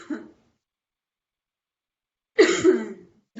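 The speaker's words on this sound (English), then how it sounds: "I'm so sorry about the coughing." A single short throat-clearing cough at the start, then quiet, then a louder rough cough lasting about a second, close and alone with no talk.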